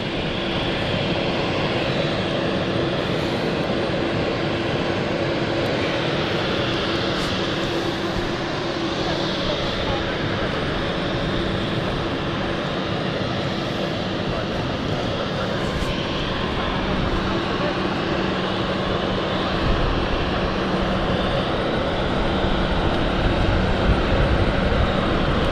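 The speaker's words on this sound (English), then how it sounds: "it looks like that's about to taxi." Aircraft taxiing at London City Airport, a steady, loud engine roar and whine heard throughout from a moderate distance, with a voice talking over it.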